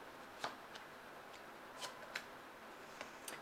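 Angel cards are shuffled by hand for a work and career reading, heard as quiet, brief riffling flicks at irregular intervals over a soft background hiss.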